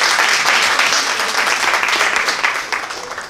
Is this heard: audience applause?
yes